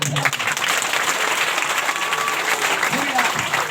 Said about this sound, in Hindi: पूरी रात ताली बजाओ, धन्यवाद।